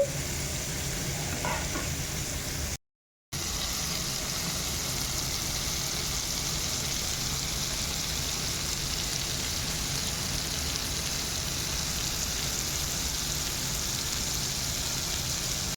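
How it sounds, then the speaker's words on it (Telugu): Spicy prawns tava fry: prawns sizzling on a hot tawa pan in a steady, dense hiss that keeps up unbroken, with one very short silent gap near the start and no talking. "రొయ్యలను అయితే రెండు వైపులు కూడా తిప్పుకుంటూ ఫ్రై చేసుకోవాలండి"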